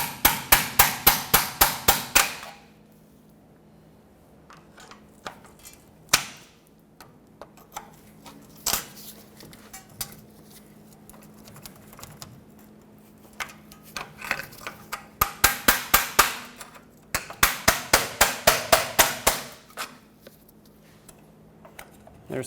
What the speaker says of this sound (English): It's fairly seized on here, so I'm going to have to tap it with a hammer.